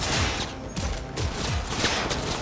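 Rapid bursts of gunfire in Cyberpunk, loud and close, firing in quick repeated volleys throughout with no pause.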